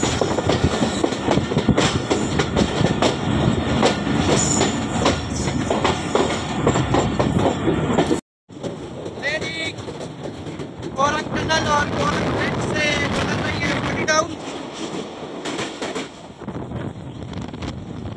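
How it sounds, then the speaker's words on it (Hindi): The Jaffar Express rolls onto main line 1 near the Korang bridge and tunnel, a loud continuous rumble with clickety-clack of wagons and wind buffeting, breaking briefly before resuming with squealing tones; a voice talks over part of it. "बल खाती ट्रेन मेन लाइन 1 पे आते हुए"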